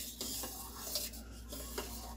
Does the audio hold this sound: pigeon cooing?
no